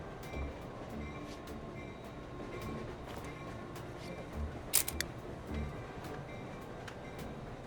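A moving train in the video game Irony Curtain, a steady low rumble with periodic clanks and a brief burst of sharp metallic clatter midway, no speech.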